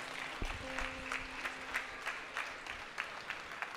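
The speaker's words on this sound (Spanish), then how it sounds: "Un fuerte aplauso para todos ellos." An audience claps steadily at an outdoor Rastrillo Nuevo Futuro charity market concert, a sustained round of applause heard from a moderate distance with no talking over it.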